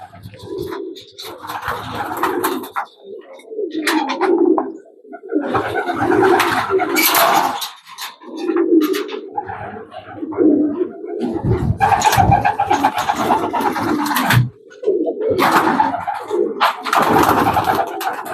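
Pigeons at an Azerbaijani pigeon club coo in repeated throaty bursts close by, the low rolling calls recurring through the whole stretch with brief pauses.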